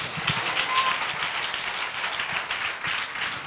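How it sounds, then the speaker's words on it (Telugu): A church congregation claps together in steady, dense applause that holds at an even loudness from start to finish, with no voices standing out. "చప్పట్లు కొట్టండి."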